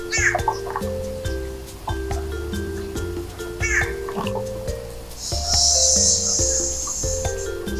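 Cicadas near a backyard birdbath break into a steady, shrill buzz partway through, holding for a couple of seconds over background music and scattered bird calls.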